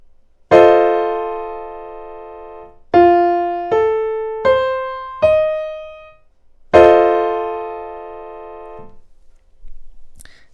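Dominant seventh chord on a piano in a music lesson: a full chord struck, then four notes played one by one in a rising arpeggio, then the full chord struck again and left ringing until it decays, with no talking.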